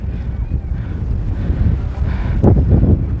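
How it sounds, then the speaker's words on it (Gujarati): Steady wind on a hilltop viewpoint buffets the microphone with a low, rumbling roar that swells louder near the end, with no talking. "મસ્ત ઠંડો પવન આવે છે"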